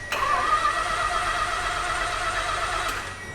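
A car that had sat unused for ten years, a rare Japanese-market model, cranks and fires up, then holds a loud, steady mid-pitched engine roar close by that eases slightly toward the end.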